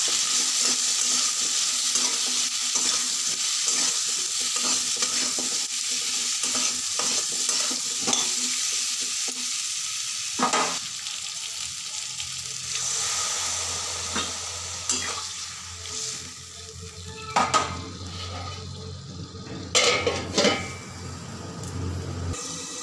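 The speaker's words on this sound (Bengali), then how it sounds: "এরপর পরিমাণ মতো লবণ, হলুদ আর লঙ্কা গুঁড়ো দিয়ে কিছুক্ষণ নাড়াচাড়া করে জল দিয়ে ঢাকা দিয়ে দেব" Potatoes and sweet potatoes are stirred in a hot pan with salt, turmeric and chili powder for a fish and tomato curry, a loud steady sizzle broken by close spoon scrapes and knocks, with no talk.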